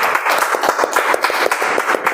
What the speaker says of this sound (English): Can we have a round of applause for the please?